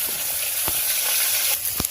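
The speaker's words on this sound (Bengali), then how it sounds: "এদিকে কাঁচকলা আর এদিকে আলুটা ভাজা হচ্ছে।" Potato and green banana slices fry in hot oil in a village kitchen, giving a continuous close, loud sizzle with a few sharp crackles and pops and no talking.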